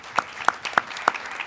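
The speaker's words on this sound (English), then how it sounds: "Join me with a round of applause." Sparse, scattered clapping from a small group at a Board of Education meeting, a handful of distinct claps spread unevenly over a brief moment, fairly quiet with no talking.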